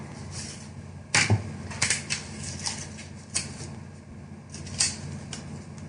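A die-cutting machine presses through a film strip with curvy dies: a sharp mechanical clack and crunch, followed by several quieter clicks and rattles of the plates being handled, close by with no talking.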